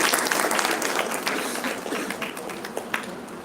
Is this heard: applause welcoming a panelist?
yes